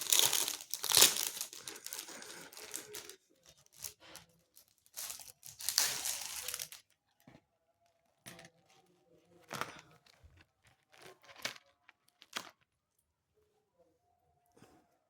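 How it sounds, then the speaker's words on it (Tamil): A packaged chain bought for 1000 rupees being unwrapped, with loud, close crinkling of plastic packaging in bursts at first, then sparse, quieter rustles and crackles separated by pauses. "உங்களுக்கு பிரித்து காட்டுறேன்"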